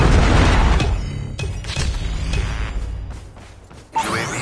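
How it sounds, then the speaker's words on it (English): A predator missile strike in Call of Duty Mobile lands as a heavy, loud boom whose rumble rolls on and fades, followed by a sharp second burst just before the end. "Friendly predator missile inbound."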